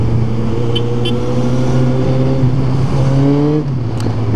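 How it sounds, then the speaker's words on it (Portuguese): A motorcycle engine on a São Paulo street holds a loud, steady rev with a slight rise in pitch near the end, heard up close while riding. "Minha moto tá meio acelerada."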